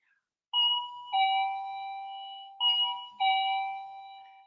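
A household doorbell chimes two clear ding-dong pairs, each pair of bright tones ringing out and fading slowly, heard alone in a quiet room.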